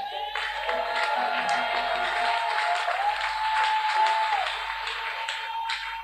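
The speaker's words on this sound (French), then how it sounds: "Célébrons donc la présence du Saint-Esprit par de vives acclamations." A church congregation breaks into lively applause and cheering. The clapping is steady and fills the room, with a sustained organ or keyboard tone running beneath it and scattered shouts rising above.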